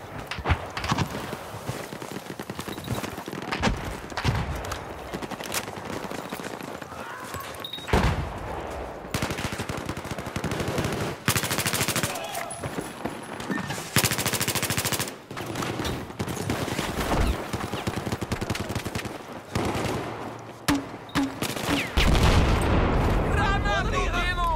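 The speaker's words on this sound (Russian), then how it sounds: "Обнаружен! Вражеский пулемет!" Enemy machine gun fire in the video game Battlefield 4, dense bursts of automatic gunfire and explosions rolling on and off over half a minute, with voices speaking amid the combat.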